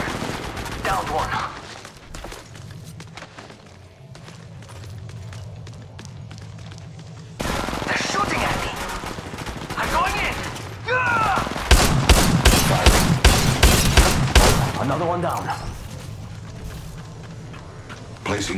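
Apex Legends Mobile gunfire, sharp bursts and rapid automatic volleys that grow dense and loud in the second half, mixed with game voice lines and effects.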